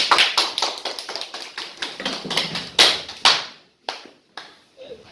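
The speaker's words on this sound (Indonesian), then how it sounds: "Sekarang kita berikan aplaus untuk kelompok 1" A small classroom group gives applause for a team of students, a brief patter of sharp claps that thins out into a few scattered final claps.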